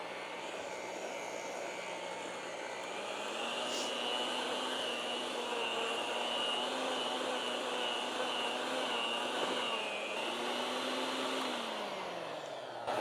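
An electric mixer whirs steadily through almond biscotti dough, a continuous close motor hum that shifts pitch slightly partway through and runs unbroken for the whole stretch.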